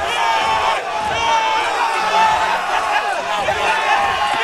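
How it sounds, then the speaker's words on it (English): A loud arena crowd in London roars and cheers continuously at the end of an MMA fight, with shouting voices rising and falling throughout. "Crowd are going crazy here in London for Imran Hassan from the ESKF"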